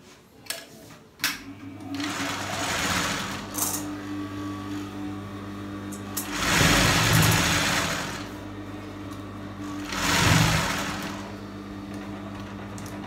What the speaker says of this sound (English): So watch me stitch.